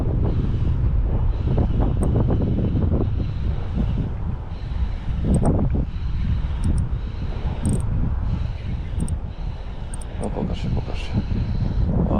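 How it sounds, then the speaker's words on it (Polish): Wind buffets the microphone outdoors at a fishing spot, a loud, continuous low rumble with gusty swells, and someone talks under the noise at times. "No jak widzicie wieje, przeszkadza jak nie wiem."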